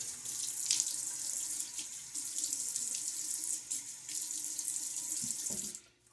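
Water runs steadily from a bathroom sink tap, a close, continuous hiss and splash with slight shifts as hands move through the stream, cutting off near the end.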